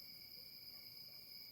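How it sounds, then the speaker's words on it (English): Crickets chirp at dusk in a steady, high, unbroken trill, faint and even, with no other sounds in the quiet evening air. "Judea was filled with a symphony of crickets, and the whisper of rustling grass accompanied the wind."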